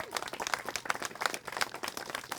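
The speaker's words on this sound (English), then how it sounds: "All right, let's give Tommy a round of applause" A small audience applauds after an interview with a CrossFit athlete, a steady patter of overlapping hand claps at moderate, fairly quiet level, with faint murmuring underneath.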